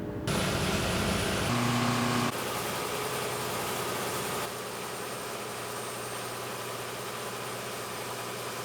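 Two diesel generators, a Detroit Diesel 671 and a John Deere 471, run in a tugboat engine room, giving a steady droning hum. An engine hum shifts partway through.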